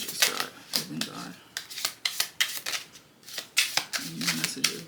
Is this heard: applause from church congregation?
no